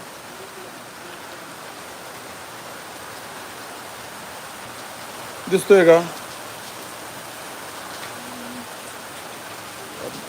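Heavy monsoon rain pours down in a rural village, a steady, dense hiss that runs unbroken throughout. A voice briefly speaks over it midway.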